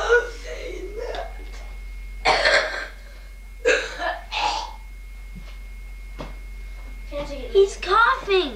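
A man coughs in a few short, dry bursts, close and fairly loud, scattered between bits of talk and laughter in a room.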